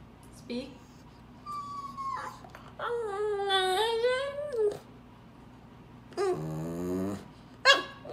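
A dog makes a run of whimpers, whines and low growling vocalisations, some long and wavering, close to the microphone with quiet pauses in between.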